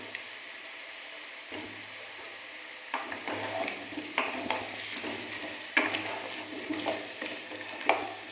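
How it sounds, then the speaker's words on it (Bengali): Cut potatoes slide one by one into hot oil in a kadai, each drop setting off a sharper sizzling burst over a growing steady fry, with clinks of the pan, close and moderately quiet, no talking. "এবার কেটে রাখা আলুগুলো আস্তে আস্তে তেলের মধ্যে ছেড়ে দেব।"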